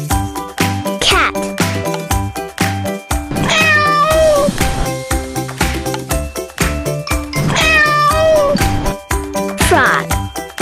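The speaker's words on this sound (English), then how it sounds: "Cat." A cat meows twice over a bouncy children's music backing, each call rising and falling clearly above the tune.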